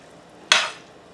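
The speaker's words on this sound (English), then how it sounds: "And give this a little mix." A single brief scrape and clink of a spoon mixing beef consomme gravy in a pan, one short close stroke in an otherwise quiet kitchen.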